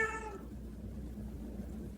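A parrot imitates a cat's meow in one short, clear call at the start, followed by quiet room background.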